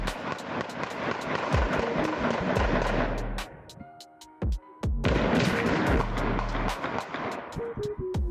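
Rapid gunfire from a dark-colored Kia Soul on a street on a Friday evening: loud clusters of sharp shots that stop for about a second and a half, then start again with a few scattered cracks at the end.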